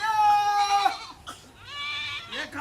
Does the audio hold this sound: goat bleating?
yes